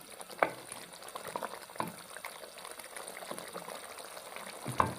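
Beef masala frying in a pot for a beef and okra curry, a steady bubbling sizzle with a few sharp clinks of a spoon against the pot, close and alone.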